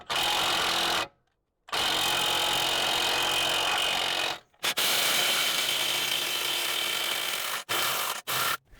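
A power tool spins on a corroded ball joint pinch bolt nut in long continuous bursts of harsh whirring, close and loud, separated by brief silences.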